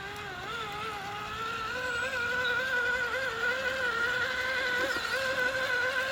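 A Traxxas TRX4 Defender RC truck on Swamp Claw tyres grinds through deep mud in first gear, its electric motor whining steadily and close throughout, pitch wavering slightly as it churns.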